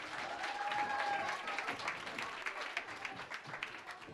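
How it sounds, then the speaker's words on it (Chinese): An audience at a church Christmas celebration service gives a round of applause, a soft, distant, steady patter of many hands clapping that continues for a few seconds. "我们现在呢给他们一个掌声鼓励鼓"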